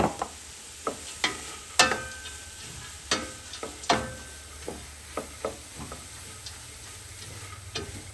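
Finely chopped carrots sauté with seasoned onion in a pan, with sharp, irregular ticks and clacks of a utensil against the pan over a faint, low sizzle and no talking.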